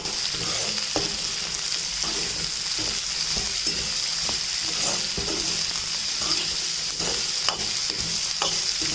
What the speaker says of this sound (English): Now when the bitter gourd is half cooked, you add the 1 cup of onions to it. Mix well.